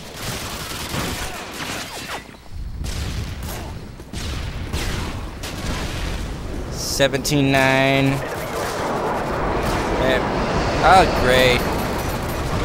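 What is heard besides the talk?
Semtex grenade explosion in Call of Duty Modern Warfare 2 (video game)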